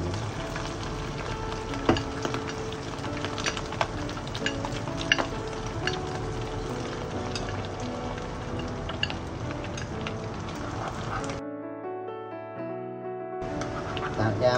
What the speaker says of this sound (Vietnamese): Giờ mình tiếp tục mình chiên mấy cái còn lại nha, cũng y chang giống như lần đầu mình chiên vậy.